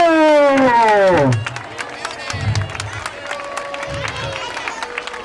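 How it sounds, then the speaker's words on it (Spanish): An audience at a football club festival breaks into applause and cheers for a children's football team, a burst of clapping and crowd noise that follows a loud amplified tone sweeping downward, then settles into scattered claps. "anem a demanar un fort aplaudiment als xiquets"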